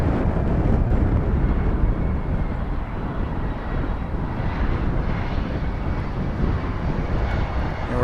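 An airliner taking off at DFW airport, its jet engines giving a loud, sustained broadband roar that holds steady throughout, with some wind buffeting on the microphone.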